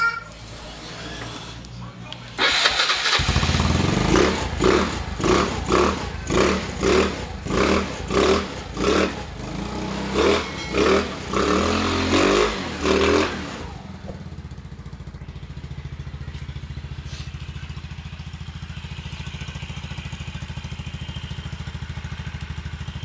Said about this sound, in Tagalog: Testingin po natin siya paandarin kung aandar na po